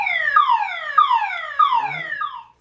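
A police siren fitted to a student-built vehicle wails in rapid repeating downward sweeps, about four cycles, loud and close, cutting off abruptly at the end.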